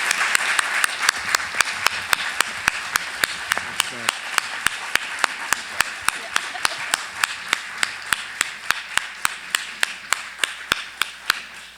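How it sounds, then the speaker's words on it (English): Audience at a community index launch event applauds steadily, individual claps sharp and distinct, rising into a sustained standing ovation that carries on for the whole stretch with some crowd murmur underneath. "I want us to give them all a wonderful round of applause for their work."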